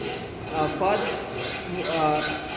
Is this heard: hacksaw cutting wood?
yes